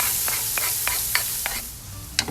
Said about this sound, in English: In the pan we're gonna put the olive oil, a little hunk of butter, and to this we will immediately put our onions in.